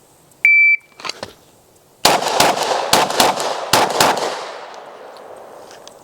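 Handgun shots fired after drawing from a holster at a shooting range, a fast string of six sharp, loud cracks with ringing decay, preceded by a brief electronic timer beep.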